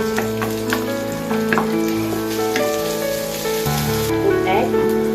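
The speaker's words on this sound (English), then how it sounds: "stir fry the garlic and the anchovy" Garlic and anchovy stir-fried in a wok sizzle and crackle steadily and up close, with scraping stirring strokes over background music.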